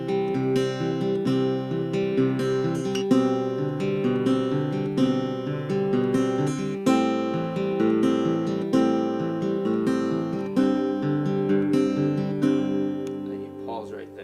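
An acoustic guitar plays an opening chord sequence, ringing chords and picked notes flowing continuously at an even moderate volume, close up and without speech.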